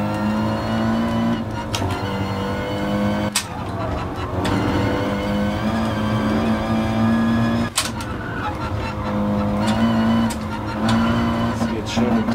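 An Audi TT Cup race car in GT Sport on the Nordschleife, its engine droning steadily as it accelerates through the gears, with brief shift breaks and someone talking over the continuous loud motor.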